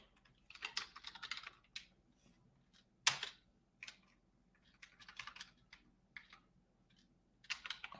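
Keys clack on a computer keyboard in quick irregular bursts, fairly close and quiet, with one sharper tap standing out and short pauses between flurries; no voices.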